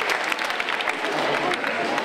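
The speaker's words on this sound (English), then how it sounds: "you deserve the applause here" Audience applause in a room during a talk on creative problems, a brisk, fairly loud patter of many hands clapping, with voices mixed in underneath.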